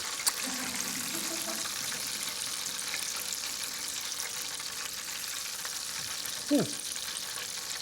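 Steady hiss and crackle of oysters frying in hot grease, constant and fairly faint, with a couple of brief clinks.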